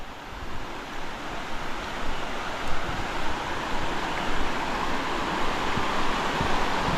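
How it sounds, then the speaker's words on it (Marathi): Monsoon rainwater rushes across a rocky plateau in the Konkan after heavy rain, a steady, loud, broadband roar with no pauses and no voices throughout. "पाण्याचा आवाज बघा एकदम स्विमिंग पूल"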